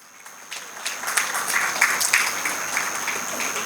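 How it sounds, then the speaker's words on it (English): Audience applause at a school annual day function after young children perform a dance, steady clapping building slightly and holding at moderate level, heard from within the hall. "let's all give a big round of applause for these young artists"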